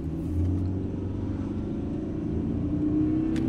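A 2017 Subaru Outback 2.0L diesel with a CVT accelerates at wide open throttle up a semi-steep hill, giving a steady, loud engine drone that holds throughout with no breaks.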